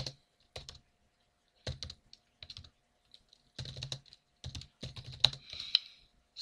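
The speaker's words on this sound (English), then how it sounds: "And I shall now type the following commands." Computer keyboard keys tapped in short bursts of typing with pauses between, close and fairly quiet, no talking.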